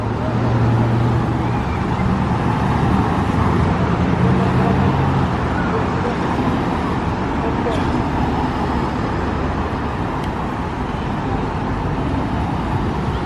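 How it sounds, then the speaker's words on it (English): Busy road traffic with many V8-engined cars roars steadily throughout at a busy crossroads on International Drive, Orlando, with deep engine rumble from passing cars blending into a continuous wash of road noise. "Loads of V8 engines about."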